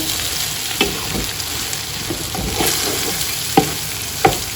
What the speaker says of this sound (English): I'm just gonna fry these up now with all the ingredients